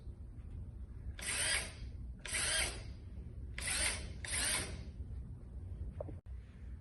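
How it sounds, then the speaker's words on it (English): A power drill drills holes into a floor in four separate bursts of roughly half a second each, loud and close, with short pauses between them. "you're going to proceed to drill down the holes"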